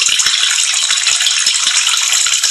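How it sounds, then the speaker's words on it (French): A steady, close hissing splash of urination in the toilet game WC Simulator, rattling continuously for the whole stretch with faint low knocks underneath. "on peut faire pipi"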